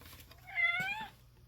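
A single cat meows once, a short, fairly quiet call close by.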